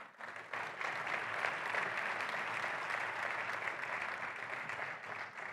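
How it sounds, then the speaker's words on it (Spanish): An audience gives sustained, steady applause as a guest, the Andalusian regional sports secretary, is welcomed onstage at a sports Hall of Fame ceremony; dense, even clapping fills the whole stretch without a break. "al que recibimos con un aplauso"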